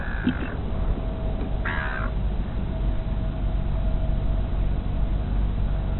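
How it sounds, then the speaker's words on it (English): Seagulls call near a pelican by a parked car, two short raspy squawking calls standing out early over a constant low rumble and background noise, recorded on a modified 1984 Sharp XC-54 video camera. "Got a pelican and a whole bunch of seagulls."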